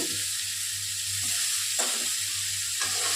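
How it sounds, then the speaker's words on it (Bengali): Potatoes fry in a pan with a steady high sizzle, broken by a few scraping stirs of a utensil, close up and with no talking. "একটু ভাজা ভাজা হয়ে যাওয়ার পরে আলুগুলোকে দিয়ে আমি এরকম করে ভেজে দেবো।"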